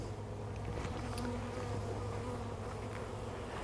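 Honeybees buzz in a dense, steady, close drone while a package of bees is installed into a new hive, and the hum stays constant the whole time.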